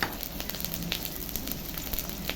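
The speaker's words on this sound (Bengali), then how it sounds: "আদা রসুনটা এখন ভেজে নেব।" Ginger and garlic sizzle in hot oil in a pan while cooking potato chop, a steady faint crackle with small pops, alone with no talk.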